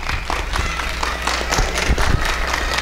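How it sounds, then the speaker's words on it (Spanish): Applause from a conference audience at an academic lecture on teachers in post-revolutionary Mexico, a dense steady wash of many hands clapping close by, with a few sharper claps standing out and no talk over it. "Un fuerte aplauso para la ponente."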